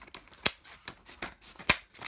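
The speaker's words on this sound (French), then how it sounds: "On va les couper par là." Scissors snipping open a Pokémon booster pack, a few sharp separate cuts with small crinkly rustles in between, close and quiet, with no voices.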